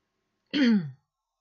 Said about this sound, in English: now I'm starting to get the cough